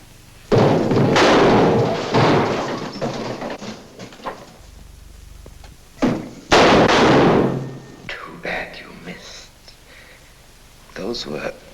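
Gunshots ring out in a tense dark-mystery confrontation, two loud sharp bursts a few seconds apart, each followed by quieter knocks and rustling, with speech around them.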